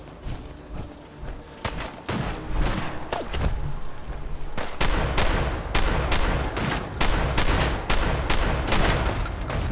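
Weapon fire in the video game Fallout 4: Far Harbor: a sparse few shots at first, then loud, rapid bursts of repeated gunfire that keep going with little pause.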